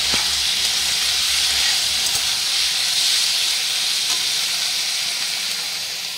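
Cauliflower and cabbage sizzle in a pan with a loud, steady hiss that stays even throughout and eases slightly at the end.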